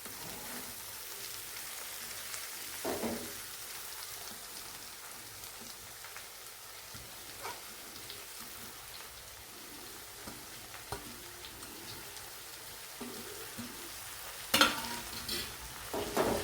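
Finely chopped spinach and tomatoes frying in a pan, stirred now and then, make a steady low sizzle with occasional scrapes and taps of the spoon, heard alone without talk.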